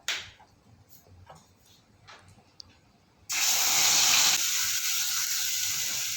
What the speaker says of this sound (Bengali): কালো জিরে ফোড়ন দেবো, দিয়ে ওই মশলা পেস্টটা এর মধ্যে দিয়ে দেবো।